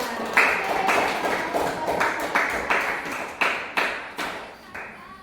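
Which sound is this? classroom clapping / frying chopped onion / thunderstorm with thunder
classroom clapping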